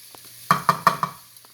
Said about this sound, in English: I'm going to saute some red bell peppers and onions to go in there.